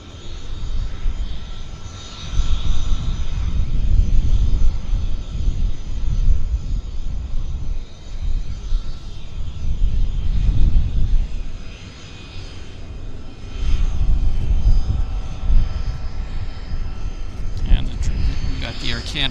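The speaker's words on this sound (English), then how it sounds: "We've got the Air Canada taxiing right down to the very end." An Air Canada jet taxis to the far east end of runway 26 left at Vancouver Airport and then rolls for takeoff, its engines giving a loud, steady roar that swells and fades, with a person talking over it.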